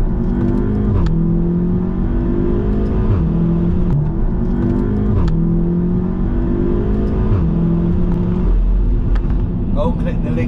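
A tuned Audi S3 with a Miltech exhaust revs repeatedly, the engine note rising and falling in several steady sweeps at close range, loud and continuous throughout.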